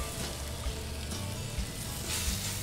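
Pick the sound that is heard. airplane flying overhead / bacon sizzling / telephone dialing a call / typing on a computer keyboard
bacon sizzling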